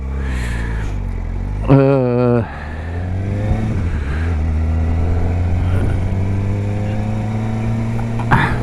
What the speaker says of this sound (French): On accélère un coup? Allez, écoute.